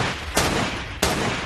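Two loud, sharp gunshots from an M1 carbine ring out about two-thirds of a second apart, fired at a demolition cable on a bridge during a World War II battle, amid continuous battle noise.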